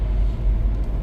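A 2012 Toyota Camry with front-wheel drive pushes up a snowy road in winter, heard from inside as a steady low engine and road rumble, brief and continuous, with no talk.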